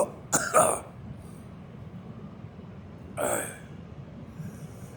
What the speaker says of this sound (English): Holy shit, this weed makes me cough.